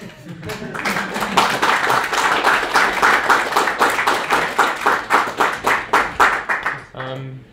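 Audience clapping at the close of a RabbitMQ high-availability tech talk, a dense burst of many hands that settles into a steady rhythmic beat before fading, with a voice starting at the end.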